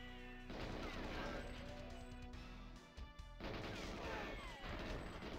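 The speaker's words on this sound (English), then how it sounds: "Where'd that explosion come from?" A loud explosion rips through a GoldenEye shootout, a dense crashing blast with rumbling debris that cuts out briefly and then bursts again, close and dominant.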